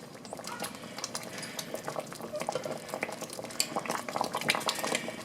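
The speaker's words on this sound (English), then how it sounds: "Now this will go ahead and just simmer for 5 minutes." Caramel pear pie filling simmering in a pot, a dense bubbling with occasional clinks of a utensil against the metal rim, growing slightly louder toward the end.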